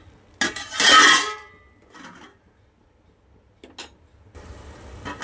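A lid set down on a cooking pot of simmering crab-stock masala, giving a loud metallic clatter followed by a few lighter clinks and taps, close by with no talk.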